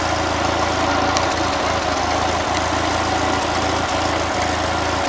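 A 1941 Ford 9N tractor engine idles roughly and unevenly with misfiring points, a steady close low rumble broken by irregular stumbles and knocks, with no talking.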